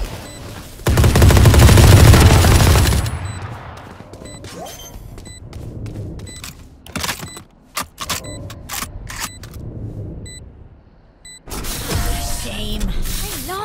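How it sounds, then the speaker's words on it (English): Gunfire and explosions in the video game Valorant, with a loud dense blast up front followed by a scatter of sharp shots and impacts, then another burst of heavy firing near the end. "Explosions."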